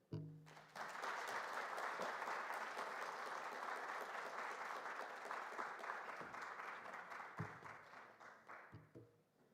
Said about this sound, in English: another big round of applause for Mme Phuthi.